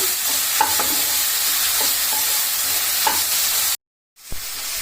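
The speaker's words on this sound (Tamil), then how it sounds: "சேர்த்துட்டு இது பச்சை வாசனை போகிற வரையிலும் நல்லா வதக்கிடலாம்" Tomato sautéed with ginger-garlic paste in a pan sizzles steadily while a spoon scrapes and stirs at intervals; the sound cuts out briefly near the end before the frying resumes.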